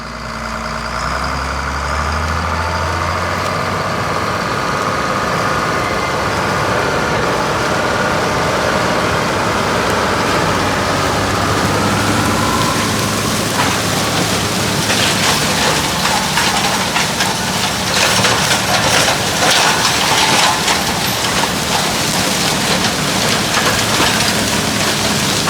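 Tractor working a field during tillage, heard from outside the cab as a steady, loud engine drone with broadband rumble and rattle that swells in the second half, with no talk.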